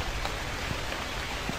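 Steady, heavy rain in the horror game The Convenience Store patters and hisses continuously, with scattered individual drops ticking through the dense wash of noise.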